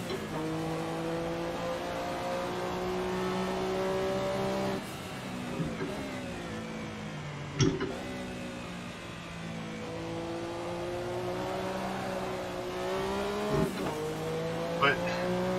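A Porsche 962 race car in Assetto Corsa at 1967 Silverstone drifts through corners with a droning engine and long squealing tires, revs rising and falling, while someone talks over it.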